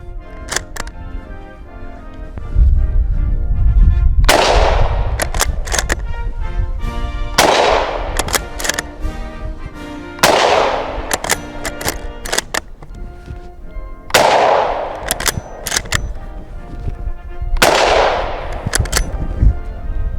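A Finnish M/28 Mosin rifle fires old Tula ammunition outdoors: five or six sharp, loud rifle shots spaced a few seconds apart, each cracking and then decaying into a short echo, with bolt-cycling clicks between shots.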